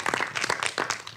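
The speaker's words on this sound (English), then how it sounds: "let's give him a round of applause for his leadership" Brief burst of audience clapping at a political education panel event, a short patter of claps lasting about a second, moderately loud with no talk over it.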